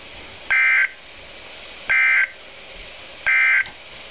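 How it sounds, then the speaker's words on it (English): NOAA Weather Radio severe weather alarm tones sound as three loud, steady electronic beeps of equal length, evenly spaced over a faint background hiss, with no voices. "This station will broadcast severe weather alarm tones"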